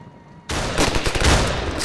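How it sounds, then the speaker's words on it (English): Gunfire in the video game Ravenfield, where a sudden loud burst of rapid shots breaks out after a quiet moment and continues densely to the end. "Hey, watch it! I'm shooting here!"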